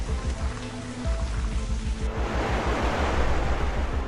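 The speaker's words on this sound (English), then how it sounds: "Powerful tropical rain gives the final blow." Heavy tropical rain pours down in a dense, steady hiss that thickens midway into an even louder, rougher downpour, continuous and close with no voices.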